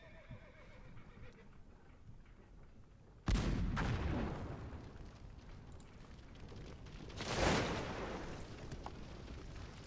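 Troops and a blockhouse fire in the video game Cossacks 2: two loud volleys of gunfire a few seconds apart, each followed by a long rumbling roll, over continuous battlefield noise.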